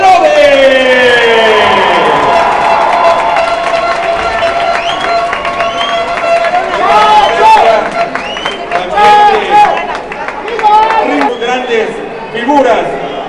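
Large arena crowd at a professional lucha libre tribute event applauds and cheers for wrestlers Ringo Mendoza and Chacho Herodes at Arena Coliseo, a loud, sustained wash of clapping and crowd noise with an announcer's voice ringing over it.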